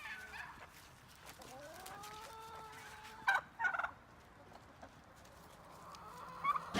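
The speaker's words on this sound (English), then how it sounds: "But we have 4 turkeys." Turkeys gobble in a couple of short, rattling bursts nearby, with softer rising bird calls in between against a quiet farmyard background.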